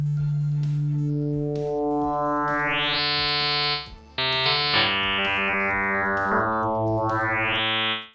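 An FM synthesis tone, with oscillator 2 modulating the phase of oscillator 1, sounds as a bright, buzzy sustained note. Its timbre sweeps up and down several times, with a brief dropout midway before the note resumes, and no voice is heard.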